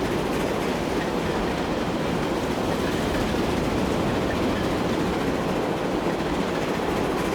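A passing train in the railway game Transport Fever 2 on a busy UK line near Croydon gives a loud, continuous rumbling roar of wheels on track, steady from start to finish with no talking.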